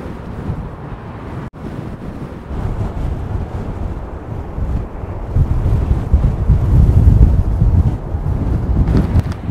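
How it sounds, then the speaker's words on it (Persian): Strong wind by the sea in Rabat, Morocco, roaring steadily into the microphone with the wash of waves underneath, growing louder toward the end, with no talking. "امیدوارم از این همه باد شما صدای منو بشنوین."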